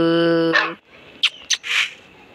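Dogs in a Minecraft-style video game give a short harmonic yelp followed by a few brief, sharp bark-like bursts, close and loud with pauses between them.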